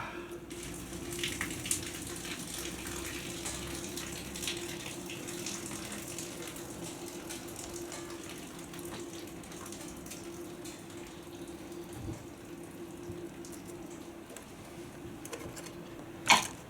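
Pasta water from a camp cooking pot pours out in a steady gushing stream that runs continuously and moderately loud, with a faint knock near the end.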